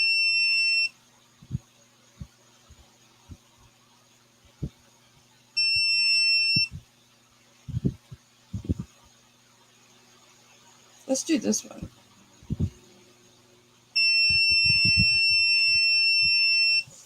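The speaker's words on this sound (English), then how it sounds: "You don't have to beep so long." An electronic buzzer sounds in three long, loud, steady tones spaced apart, with a person speaking in a room between the beeps.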